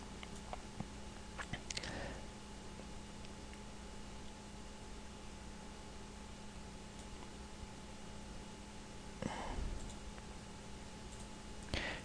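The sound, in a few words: computer mouse clicking in laser software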